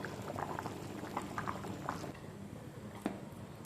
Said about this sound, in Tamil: கெண்டை மீன்லாம் போட்டால் நல்லா கொதிக்குது